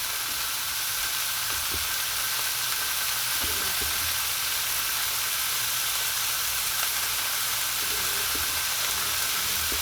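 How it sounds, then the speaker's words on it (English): Quail sear in a hot pan with a steady, close, even sizzle and crackle, with occasional faint taps and no voices. "It'll sit there and sizzle for just a few minutes"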